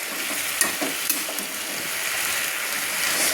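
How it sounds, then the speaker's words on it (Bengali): Spinach stirred slowly in a pan for a vegetarian palong shak ghonto, a steady close sizzle with a few light scraping clicks from the stirring, continuous and moderately loud. "এইভাবে আস্তে আস্তে করে নেড়ে নিতে হবে, পালং শাকগুলো নেড়ে নিতে হবে।"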